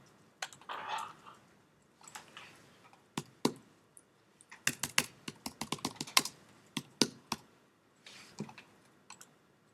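Close, quiet keystrokes on a computer keyboard come in scattered bursts and single taps, with short pauses between, while people talk faintly nearby.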